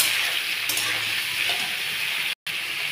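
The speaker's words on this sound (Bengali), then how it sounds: "একটু ভাজা ভাজা করতে হবে।" Vegetables for a pointed gourd curry fry in a wok with a continuous close sizzle and occasional stirring scrapes, broken by a brief dropout near the end.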